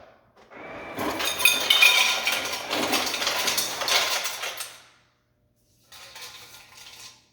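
A Jenn-Air 72-inch Rise French door refrigerator, model JFFCC72EHL, dispenses ice cubes in a loud clattering rush lasting several seconds, pauses, then gives a second shorter burst of tumbling ice.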